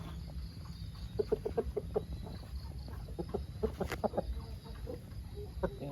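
Chickens cluck in quick, repeated series nearby, short clipped notes rising and falling over a steady low background hum.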